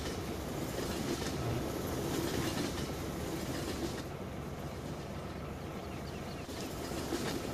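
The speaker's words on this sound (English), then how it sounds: "How long is this train?" Train passing continuously in Farming Simulator 17, a steady rumbling roll of railroad cars with clickety-clack wheel noise, loud and close throughout, with no talking.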